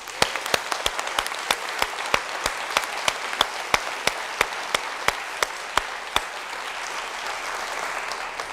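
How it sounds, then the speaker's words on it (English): Audience applause at an 8th grade recognition ceremony, with distinct sharp claps rising out of a steady wash of clapping that continues evenly and then thins toward the end. "I like to get a round of applause early in any remarks I make, so thank you for that."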